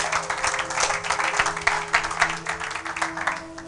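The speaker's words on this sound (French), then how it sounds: "Acclamons pour la gloire de notre Dieu." A church congregation claps in a lively, fairly rhythmic burst of applause during a French-language worship service, with sustained musical tones humming underneath.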